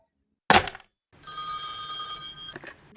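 A telephone bell rings in one steady burst of about a second and a half, loud and close, just after a sharp clatter, with a brief knock at the end and no talk over it.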